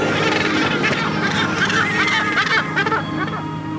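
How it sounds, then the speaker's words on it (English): A crowded seabird colony of nesting cormorants and gannets on an offshore island off the African coast, harsh cackling and honking calls overlapping continuously at close range, with no other sounds behind them. "Cormorants and gannets nest on offshore islands."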